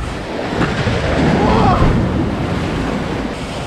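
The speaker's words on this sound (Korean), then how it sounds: "오직 파도 소리뿐이었다" Ocean waves wash onto a beach at night at Gangneung, a deep rolling roar that swells and recedes, loud and close with wind rumbling across the microphone.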